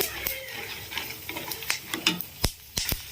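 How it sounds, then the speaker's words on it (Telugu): Peanuts roasting in a pan, a soft sizzling crackle broken by several sharp ticks and clicks as the nuts shift and pop against the metal, close up with no voices. "పల్లీలు మంచిగా వేగుతున్నాయి కదా, మంచిగా వేయించుకొని వీటిని పక్కకు తీసుకోవాలి."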